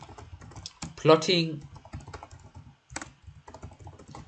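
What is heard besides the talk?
typing on a computer keyboard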